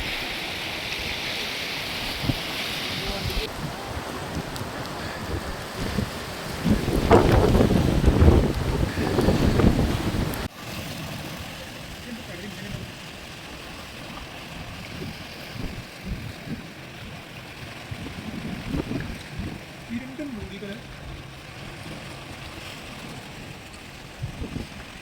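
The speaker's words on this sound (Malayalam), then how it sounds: "നല്ല മഴക്കുള്ള നല്ല കാറ്റാണ്" Strong wind gusts at a fishing harbour at Tanur just before rain: a steady broadband roar that swells into a louder gust midway, then settles into a lower rushing blow with faint water and boat noise.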